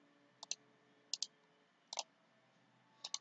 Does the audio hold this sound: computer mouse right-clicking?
yes